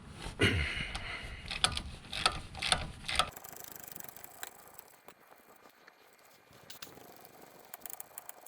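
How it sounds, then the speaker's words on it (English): Half-inch hand ratchet turning 12-point 13mm bolts on a Jeep hub assembly, a quick run of close clicking pawl strokes over the first few seconds, then quieter faint mechanical ticks and handling noise. "I usually just do this by hand with a 1/2-inch ratchet."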